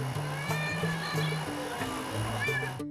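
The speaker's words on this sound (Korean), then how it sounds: "지금 새끼 부르는 소리인데요" A mother cat meows repeatedly to call her kittens under a roof, with drawn-out tonal cries close by while people talk over them.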